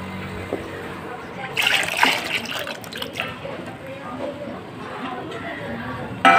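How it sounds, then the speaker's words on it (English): Water pours into a jaggery and lime mixture, a short splashing fill that swells for about two seconds then trickles and drips off, close and moderately loud, with faint room noise around it. "I'm gonna add some amount of water to the mixture."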